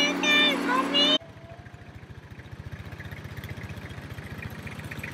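A voice speaks briefly at the start, then a farm tractor engine idles close by with a low, rhythmic chugging pulse that grows slightly stronger and continues on its own.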